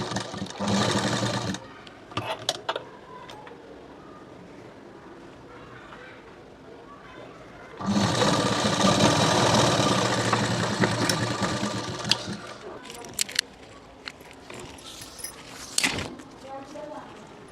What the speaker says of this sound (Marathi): इथे अशा आपण दाब सिलाई मारून घेतलं.